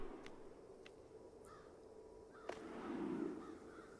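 A crow in the Child of Light video game gives a couple of short cartoonish caws, fairly faint, over a soft ambient music bed with a brief whip-like swish in the middle; no talking.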